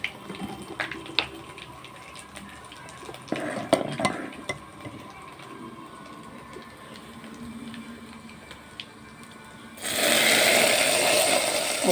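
Kishk bubbling and boiling in a pot on the stove, soft irregular pops and stirring clatter at first, then a louder steady rushing hiss of boiling near the end.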